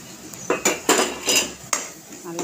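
Masala powder being stirred into mushroom gravy in a pan, with a spoon knocking and scraping the metal in several loud, uneven strokes up close.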